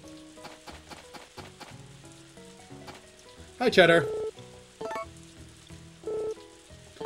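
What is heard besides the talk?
rain falling in video game Harvest Moon: Another Wonderful Life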